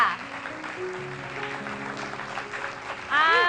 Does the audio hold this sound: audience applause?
yes